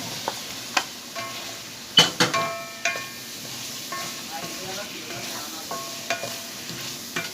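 Potatoes stir-fried in a pan with bean greens and rohu fish sizzle softly while a utensil scrapes and taps against the pan in irregular strokes, close and moderately loud.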